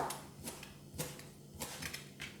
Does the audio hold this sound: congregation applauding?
no